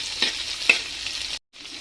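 Sliced onions sautéing in a pan as they are stirred for red sauce pasta, a steady sizzle with two soft scrapes and a brief dropout near the end.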